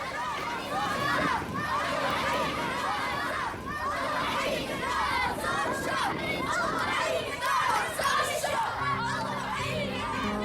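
A village crowd in Syria cheers jihadist fighters as liberators, a dense, steady hubbub of many voices chattering and shouting, with children's cries, laughter and music-like tones near the end.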